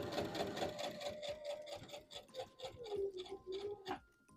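A home sewing machine stitches fabric for a Vogue V2000 wrap dress, running in a steady, rapid mechanical rhythm with a humming motor tone that slows and shifts near the end, close and fairly loud.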